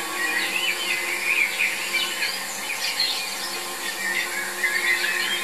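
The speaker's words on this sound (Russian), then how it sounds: "И опять же слышно жужжание." A faint insect buzz, like a bumblebee or wasp, wavers up and down in loudness against a quiet outdoor background near an eagle's nest.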